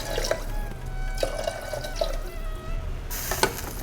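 Water pours into a pot of basmati rice, a close, bubbling trickle with small splashes and glugs that runs for several seconds before a brighter rush of pouring at the end.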